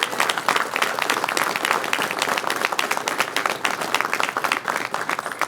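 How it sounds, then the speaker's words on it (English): An audience at a press conference breaks into sustained applause, many hands clapping densely and evenly for several seconds, with no talk over it. "Let's give them a round of applause."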